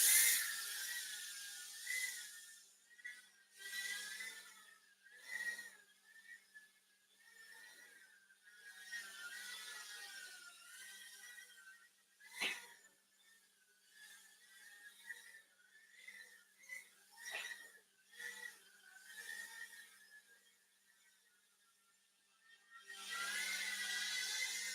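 Backyard drone motors spinning up after ignition, a faint high whining buzz that rises and dips unevenly, with brief louder bursts at the start and end.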